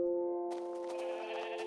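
Sheep bleating in a blocky survival video game, a sustained nasal bleat with steady harmonic tones, fairly loud and close, joined partway through by broad background game noise.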